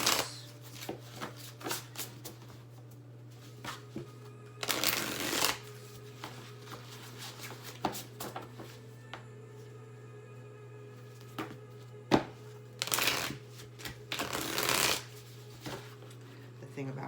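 A new deck of tarot cards being shuffled, its stiff cards sticking together, giving repeated papery riffles and taps with a few longer bursts, close by against a steady low hum.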